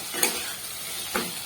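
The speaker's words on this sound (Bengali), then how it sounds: "দিয়ে একটু নাড়াচাড়া করে নেব" Fried paneer tossed with vegetables in a pan gives a continuous close sizzle, broken by two sharp scraping strokes of the spoon about a second apart.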